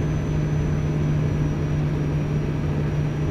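A Renault truck engine in the Euro Truck Simulator driving game holds a steady, low droning hum at constant pitch throughout, with no distinct brake sound standing out.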